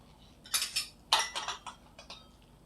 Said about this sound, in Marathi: कुकरला पूर्णपणे थंड होऊ द्यायचं आपण कुकर उघडूया